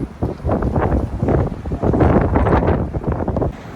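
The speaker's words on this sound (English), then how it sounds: "it's windy as hell in Boston today" Strong winter wind on a Boston university campus at about 24°F batters the microphone with a loud, continuous roaring rumble, gusting in waves, with no talking.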